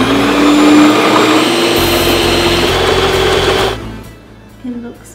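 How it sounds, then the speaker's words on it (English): An electric hand mixer whisks egg whites with a little sugar, a loud steady motorized whir that runs continuously for several seconds before cutting off, followed by a quieter tail of bowl sounds. "And then we're going to whisk it."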